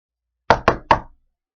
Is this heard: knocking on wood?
yes